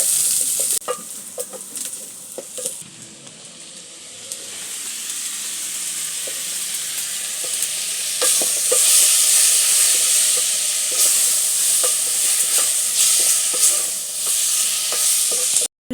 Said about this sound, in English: we have to first fry the ingredients with a minimum like small vegetable oil